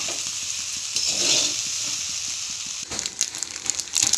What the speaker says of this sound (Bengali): দিয়ে আমি ভালো করে মিক্সড করে নেব।